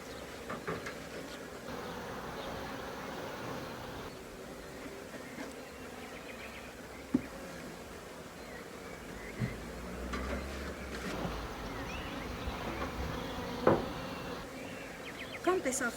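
Bees buzz around beehives in a continuous, faint, low hum, with occasional soft knocks and handling noises close by.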